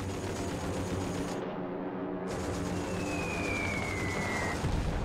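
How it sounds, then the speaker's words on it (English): Gunfire and explosions from a Japanese attack on an American base in World War II, a steady dense barrage filling the whole clip with no break, with a faint whistle-like tone rising partway through. "Ford films the first Japanese attack, which devastates the American base."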